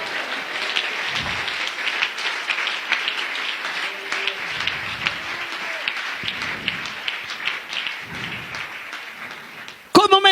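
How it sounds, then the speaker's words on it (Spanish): A church congregation applauds during a Spanish-language morning service, a steady sustained clapping that lasts the whole stretch under a preacher's voice, ending in a few louder thumps. "Dale un aplauso a Jesús esta mañana."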